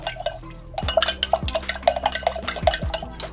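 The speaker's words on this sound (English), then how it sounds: "Mix it well." A utensil stirs facial mist ingredients in a container, producing a rapid series of bright clinking and scraping taps against the sides, close and distinct, with no voices.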